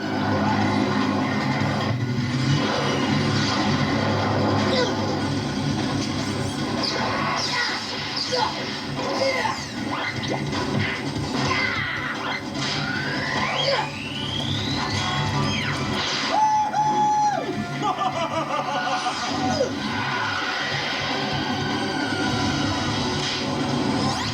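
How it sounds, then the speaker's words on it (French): A dense mix of mechanical roaring, whooshes and rising sweeps plays continuously, like loud vehicle and aircraft effects, with a brief warbling tone partway through. "on commence avec la scène de l'hélicoptère et de la voiture volante"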